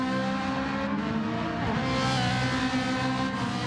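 A race car in a racing game leaves the pits on soft tyres, its engine holding a steady, loud, buzzing drone with a slight tyre squeal, close and continuous, with no talk over it.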